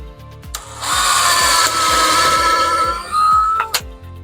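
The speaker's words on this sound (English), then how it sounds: "little drill bit was just drilling pilot holes" A small power drill with a little bit drills pilot holes in a steady high-pitched run for a few seconds, close up, with a rhythmic low ticking underneath and a sharp click at the end.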